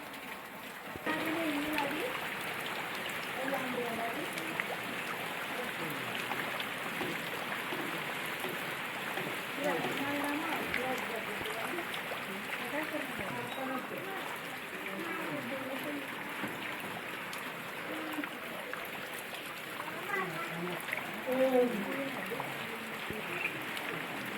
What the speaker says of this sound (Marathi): पाऊसाची सुरुवात झाली आहे